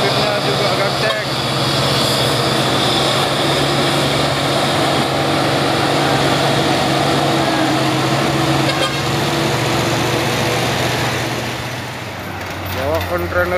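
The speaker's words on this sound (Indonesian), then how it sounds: "Ini paling gede kayaknya nanjak di Bukit Codok kontainernya" A loaded container truck labors up the steep Bukit Kodok hill, its engine droning steadily and loudly with a horn-like tonal hum, while people talk over it throughout.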